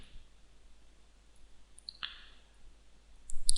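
A single sharp computer mouse click lands near the middle, with faint softer clicks toward the end, over near-silence in a quiet room.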